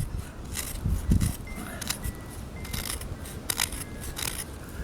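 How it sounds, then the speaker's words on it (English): A Spyderco Waterway FB43GP fixed blade in LC200N steel shaves sticky fatwood in short scraping slices, close and crisp, with a few louder bumps and no speech. "let's get slicing this sticky fat wood"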